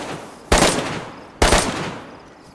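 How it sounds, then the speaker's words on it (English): Enemy gunfire in a PVP video game match at Sitnik Base rings out as two loud, sharp bursts about a second apart, each fading quickly. "oh, he's shooting at me."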